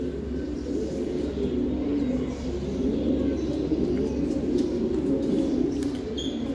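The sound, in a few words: khaki pigeons cooing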